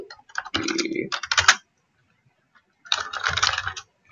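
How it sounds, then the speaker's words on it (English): Rapid keyboard typing in two bursts separated by a short pause, close and crisp. "I'm just, typing in some gibberish here"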